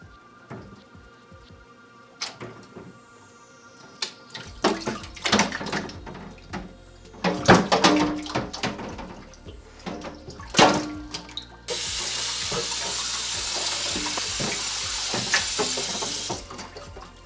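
A Tomcase XT300 Travel Edition drone case for a DJI Mavic Pro is handled in water, with scattered knocks, clunks and splashes, then a steady loud rush of running water filling the basin for the last several seconds.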